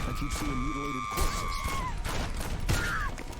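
Gunshots ring out in the video game Postal: Brain Damaged, a rapid fusillade of bursts and impacts mixed with tonal game effects and crashes, continuous and loud throughout.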